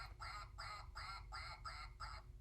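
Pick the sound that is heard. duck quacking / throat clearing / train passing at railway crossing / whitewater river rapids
duck quacking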